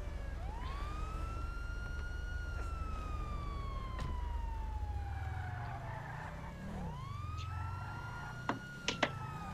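A police car siren in the video game GTA V, wailing loudly and sweeping up and down in long glides, with a low vehicle rumble beneath and a few sharp clicks near the end.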